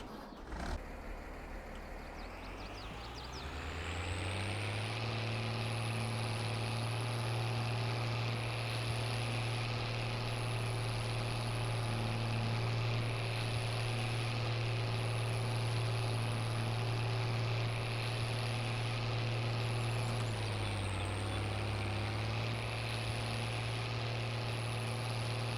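CASE 970 tractor from the 1980s in Farming Simulator 22, its engine starting up and then settling into a loud, steady, droning idle that runs unbroken, dipping briefly near the end before recovering.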